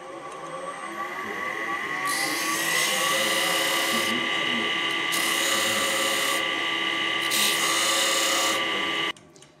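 A tool being sharpened on a power sharpener gives a steady mechanical whir with bursts of bright grinding hiss as the edge meets the wheel, close by, before it stops abruptly.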